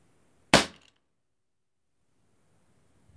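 One sharp, snappy shot from a Legends S40 airsoft pistol during a chronograph test, close and alone, followed by near silence.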